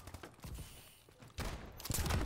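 Automatic gunfire in a first-person shooter game from a hard-recoiling weapon, heard as two fairly faint bursts of rapid shots separated by a short lull.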